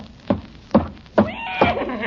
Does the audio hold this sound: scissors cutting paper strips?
no